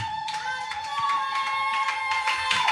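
A church congregation claps in praise of the Lord Jesus during an evangelistic service, with a rhythmic run of hand claps layered over sustained bright musical tones and a busy, reverberant room.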